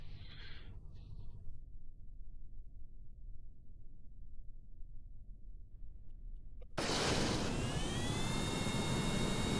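A low engine rumble and hiss runs quietly at first, then a rocket in Kerbal Space Program throttles up abruptly into a loud, broad roar for its heavy, rough takeoff from the runway.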